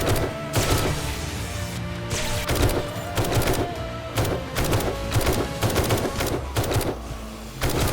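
Rifle fire during a horde night in the video game 7 Days to Die comes as repeated loud sharp shots in quick bursts, evenly spaced across the clip with no talking.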